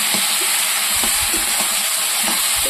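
Fried potatoes added to a hot pan, filling it with a loud, steady sizzle and hiss of frying, with faint soft knocks and stirring scrapes underneath, close up.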